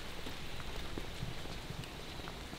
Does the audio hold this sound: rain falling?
yes